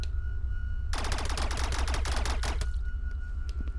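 Rapid automatic gunfire in Rec Room, a dense burst of quick shots lasting under two seconds over a low background hum, then stopping abruptly, no talk.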